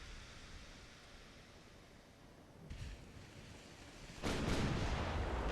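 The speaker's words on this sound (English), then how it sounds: "Hitting with Naval Artillery is probably going to be a bonus" Naval artillery fire in the naval warfare game Ultimate Admiral: Dreadnoughts: low, rumbling booms swell over a steady background roar, with one burst partway through and a louder, sustained blast near the end.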